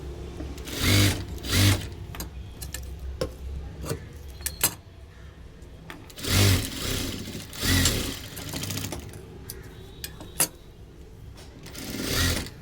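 A sewing machine stitches a folded hook strip for a blouse in short bursts of whirring, with quiet pauses and small handling clicks between the runs.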